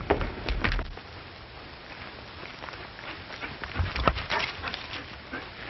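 A dog gives scattered barks and whimpers against a hissy, noisy 1937 western film soundtrack, with a louder bark cluster near the middle and one near the end.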